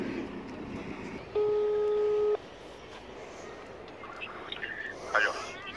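A telephone call goes out from a phone on speaker, giving one steady ringback tone about a second long, then quieter room noise with some voices and small noises.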